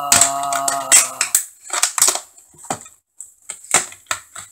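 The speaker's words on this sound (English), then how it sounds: "Doing this with safety scissors is not a smart idea" Safety scissors snip and crunch through the plastic packaging of a Logitech H390 USB headset: a quick run of sharp, close cuts and crackles, then scattered separate snips with short pauses between them.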